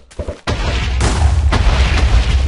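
Loud booming firework blasts from a modded game go off in quick succession, each followed by a rumbling, crackling wash of noise.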